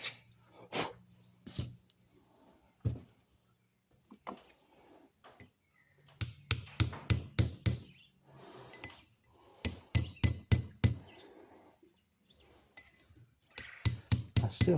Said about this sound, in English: I'm just going to smooth these pins, peen them.